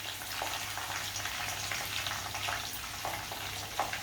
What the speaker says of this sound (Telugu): దాని తర్వాత జీడిపప్పు వేసుకోవాలి